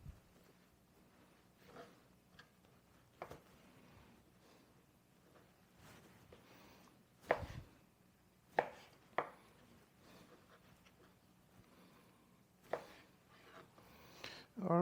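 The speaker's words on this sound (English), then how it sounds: "I finished cutting all the steak up into cubes" Knife cutting steak into cubes for kebabs on a board, with soft scattered taps and a few sharper chops spaced irregularly, fairly faint against quiet room background.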